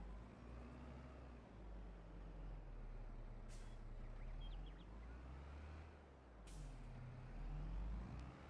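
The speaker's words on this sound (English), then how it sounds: "Why is there air brakes on this tractor?" Two sharp hisses of a tractor's air brakes in Farming Simulator 22 cut through a steady low engine drone, with a small beeping between them, and no one speaks.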